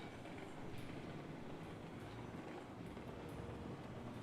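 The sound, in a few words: train running in a train video game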